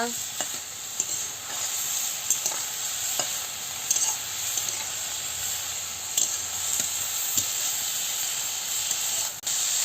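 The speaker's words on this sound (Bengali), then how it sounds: "হলুদের গুঁড়ো আর লঙ্কার গুঁড়োটা দিয়ে দিচ্ছি দিয়ে ভালো করে কষাচ্ছি" Turmeric and chili powder frying in a pan for a banana stem curry while being stirred, a steady close sizzle and hiss with scattered scraping strokes throughout.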